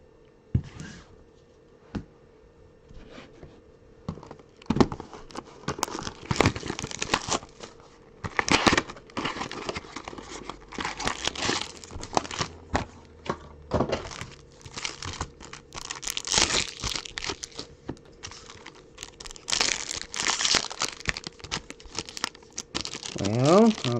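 Crinkling plastic wrapper of a sports trading card pack being torn open and handled, with repeated close, loud crackles and rustles in irregular bursts and a person speaking at times.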